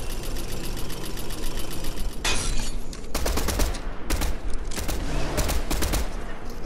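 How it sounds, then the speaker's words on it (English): Gunfire in the Fortnite video game comes in rapid automatic bursts, several sharp clattering volleys in quick succession, loud and close over a steady game background. "There's some shooting."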